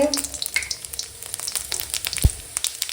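Bay leaves and whole cumin seeds sizzle in hot oil for khichuri, a steady crackling fry with scattered pops and a single sharp clink of a utensil against the pan.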